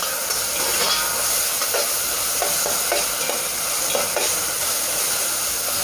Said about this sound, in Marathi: हे मिश्रण फक्त 10 मिनटं परतून घ्यायचं आहे